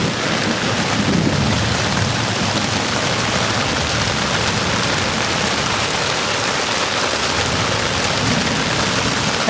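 Heavy rain pours steadily and loudly, a dense continuous hiss with low rumbling underneath, no voices.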